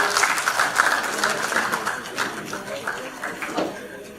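Audience applause for award-winning students at the Innovate Uttarakhand hackathon, a full round of clapping from a large crowd that swells in pulses and gradually tapers off.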